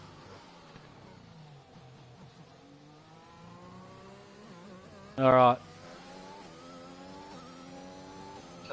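A race car engine in the Portugal round of a sim racing league video game whines through rising gear changes under a spoken remark, with a short loud burst midway before the engine continues.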